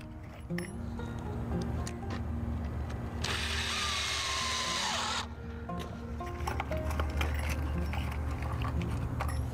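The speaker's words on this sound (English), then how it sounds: "So we're going to Put some deck screws in to here." Power drill driving deck screws into a brace board on a wooden rain barrel stand outdoors, one steady broadband whir of about two seconds in the middle, close and loud over constant background noise.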